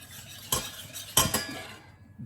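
A metal utensil stirring sugar into orange juice in a pan for an orange cake, giving a few distinct clinks and scrapes against the pan over a quiet background.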